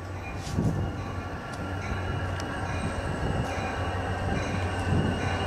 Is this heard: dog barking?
no